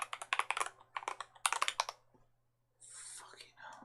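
Fast clattering keystrokes on a computer keyboard during a coding session, in three quick bursts followed by a pause and a softer hiss, with a faint steady hum underneath.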